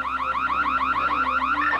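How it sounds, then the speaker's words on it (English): A car alarm wails in a rapid, repeating up-and-down electronic siren pattern, steady and fairly loud with no talk over it. "Cut the alarm."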